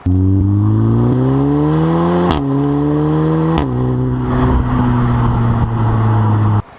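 An Audi S3 saloon with a custom exhaust revs up and down repeatedly, its deep exhaust note rising in pitch between sharp gear shifts, loud and close.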